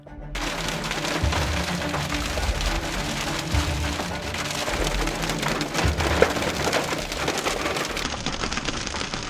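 Heavy rain drumming on a car while chasing a storm through Tornado Alley, a dense, continuous roar of drops pattering close on the body and glass for several seconds, no talk.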